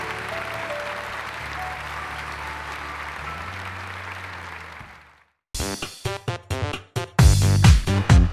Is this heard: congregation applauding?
yes